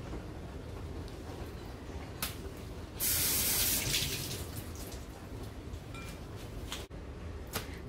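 Steady hiss of tap water running, with a louder gushing burst partway through and a few faint clinks underneath; no talking.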